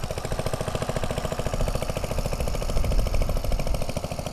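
A vintage tractor fitted with a J.A. Prestwich (JAP) engine runs at a steady working show, producing a loud, rapid, even chug that carries through the whole stretch with no talk over it.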